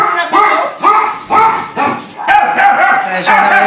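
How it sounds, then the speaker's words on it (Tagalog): A dog barks repeatedly in a quick, loud series close by, sharp yelping barks following one after another. "Pasensya na kayo, maingay yung aso."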